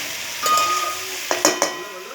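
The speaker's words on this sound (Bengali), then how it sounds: "এই যে এবার আমি ঢাকাটা খুলে দেবো।" A pot lid comes off a pan of mixed vegetables cooking with a fish head, releasing a burst of loud sizzling followed by a few sharp metallic clinks of the lid and utensils.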